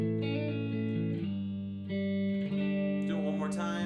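An electric guitar with effects plays a simple chord progression: sustained, distorted chords changing every second or so, sounding full and close, with a swirling modulated texture creeping in toward the end.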